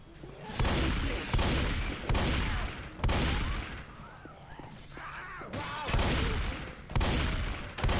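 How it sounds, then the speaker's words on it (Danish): Gunfire in the video game Left 4 Dead: loud, sharp bursts of shots repeat roughly every second, with brief gaps between volleys and no voices. "Så har vi da nogle skud igen"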